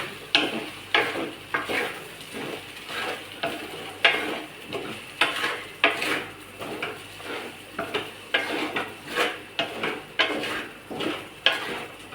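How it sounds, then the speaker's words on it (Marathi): Sabudana with peanuts stirred in a pan over low heat: a rhythmic series of close spoon scrapes and soft knocks about twice a second, over a gentle sizzle. "गॅस बारीक करू, छान मिक्स करू."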